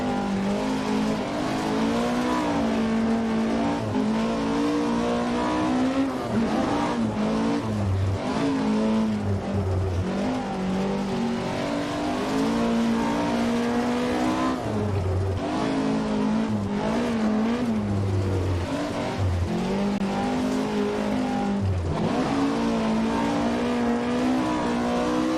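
A rally car in the Richard Burns Rally video game drives a muddy stage with some gravel, its engine droning loudly and steadily throughout, revving up and down through gear changes, with no talk.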